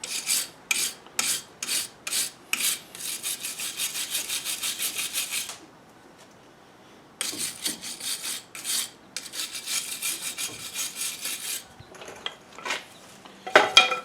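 A brush scrubs a brake caliper banjo fitting on a 2004 GMC Sierra 1500, in fast rasping strokes that run in two long bursts split by a short pause, close but moderately quiet.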